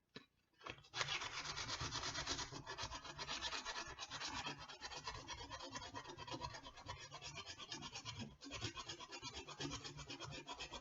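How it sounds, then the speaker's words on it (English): Sandpaper rubs by hand over a surface in steady, rapid back-and-forth strokes, close and continuous for about ten seconds after a short start, with no talking. "I'm going to keep going with the sandpaper"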